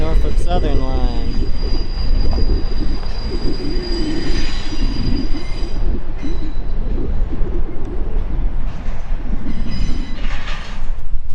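A train rolls over a crossing with the Norfolk Southern line in a rail park: loud, sustained wheel squeal and steady metallic rumble throughout, with high screeching tones near the start and end.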